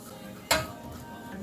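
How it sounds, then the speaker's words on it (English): Shrimp dropped into a hot pan for mackerel pasta give a single sudden clatter and sizzle burst, then a softer fading crackle, heard close with no talking. "I'm going to add the shrimps"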